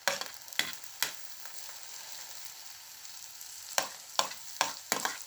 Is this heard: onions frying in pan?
yes